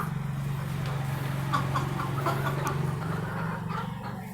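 Sonali hens on a local poultry farm in Assam, kept in a closed enclosure, cluck in short scattered calls over a steady low hum, fairly close and moderately loud.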